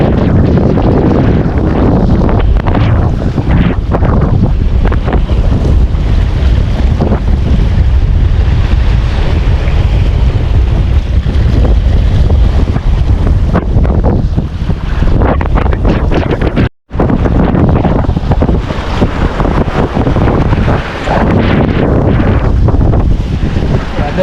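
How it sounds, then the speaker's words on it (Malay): Strong, continuous stormy wind buffeting the microphone on a fishing outing, a loud broadband roar with gusty rumble and one brief dropout near the end. "Cuaca sudah mulai berangin"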